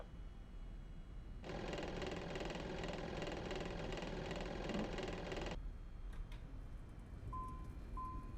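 Citation S550 jet in a flight simulator deploying thrust reversers after touchdown, a loud steady mechanical roar that starts abruptly, holds for about four seconds, then cuts off, leaving faint cockpit tones and clicks.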